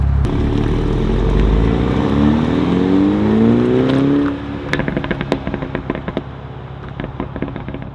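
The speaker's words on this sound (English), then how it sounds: "Let's do a rev off." A BMW M235i with a muffler delete revs hard, the engine note climbing loudly for several seconds, then dropping off into a rapid string of sharp exhaust pops and crackles.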